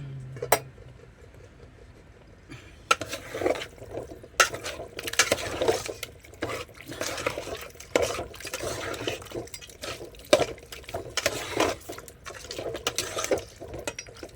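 Wet, clattering thuds and sloshing as turmeric-coated country chicken pieces tip into a pot, irregular bursts with metal scraping, fairly close and moderately loud.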